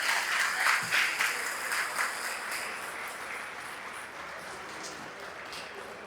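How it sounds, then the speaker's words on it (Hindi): Audience applause at a literature and acting festival event in Moradabad, a dense sustained patter of many hands that gradually fades and thins over several seconds, heard at moderate distance without talk. "तालियां ऐसी बजनी चाहिए जैसे मानो आशुतोष राणा खड़े हो।"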